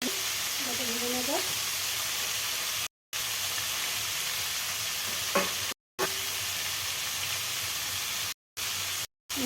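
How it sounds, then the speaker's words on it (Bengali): Pieces of lote fish turned over in hot oil give a steady, close sizzle and hiss with brief gaps, while a voice murmurs faintly over the frying. "আবার মাছটা উল্টে ভেজে নেব"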